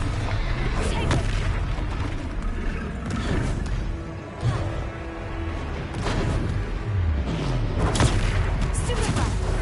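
Stupefy spell blasts in combat in Hogwarts Legacy on PS5, a run of booming impacts and crashing hits over a dense, busy game soundscape, with voices calling out amid the fighting.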